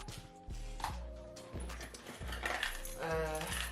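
Keys jingling as they are pulled from a Marc Jacobs tote bag, producing several bright metallic clinks and rattles close by while someone talks.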